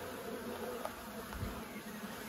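Honey bees hum at a countryside beehive, a faint, steady buzzing drone that continues evenly without a break.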